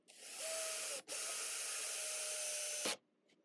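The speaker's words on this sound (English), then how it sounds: "Now I'll just add some extra screws" Power driver sinking a screw into the end grain of a wooden ladder: a loud steady whir lasting about two and a half seconds, briefly interrupted once, then stopping abruptly.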